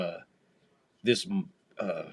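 A man lets out a loud, throaty belch during a baseball game broadcast, set between short stretches of commentary.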